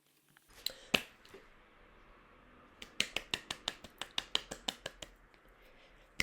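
A single person claps by hand out of nervous energy during a sudoku solve, a couple of isolated claps followed by a quick run of about a dozen sharp, evenly spaced claps, close and fairly quiet with no talking.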